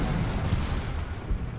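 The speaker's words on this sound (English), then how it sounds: "Wittmann's tank is hit twice, but keeps on fighting." Wittmann's Tiger tank takes shell hits in a close-range tank battle against Russian armour, heard as dense, rumbling low booms and explosive bursts that blur together in a continuous thundering din.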